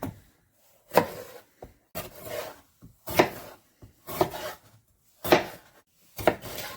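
Large peppers cut into chunks on a cutting board with a knife, a series of distinct crisp slicing strokes and board knocks in an uneven rhythm, close and clear.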